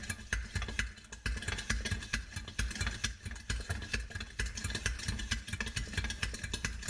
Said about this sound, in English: You can tell when you first start to pump on it if it's going to work or not.